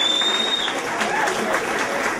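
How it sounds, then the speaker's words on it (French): Audience applause at a poetry event's first-anniversary gathering, a steady wash of many hands clapping, loud and continuous, with a brief high whistle-like tone early on. "je vous demande d'applaudir encore une fois"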